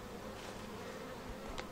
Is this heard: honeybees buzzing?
yes